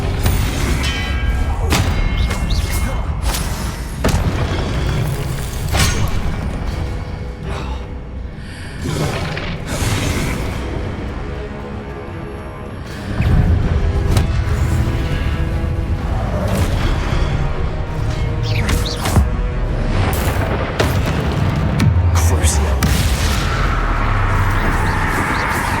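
Confringo blasting spells explode again and again in Hogwarts Legacy combat, a dense run of loud thuds and booms mixed with sharp cracks over a continuous busy game soundscape.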